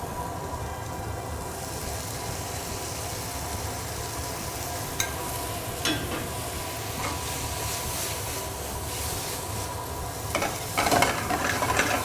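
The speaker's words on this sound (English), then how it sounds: "we are going to add a little bit of butter, and a little bit of stock." Butter and stock sizzling in a pan with sautéed morel mushrooms, peas and fava beans for a light gnocchi pan sauce, a steady dense hiss with occasional faint clinks near the end.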